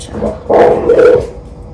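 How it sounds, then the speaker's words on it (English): A dog barking outdoors at a distance, two short bursts of barks in the middle of a quiet kitchen scene, moderately loud and heard alone. "That's my dog outside, guys."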